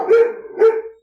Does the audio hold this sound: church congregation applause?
no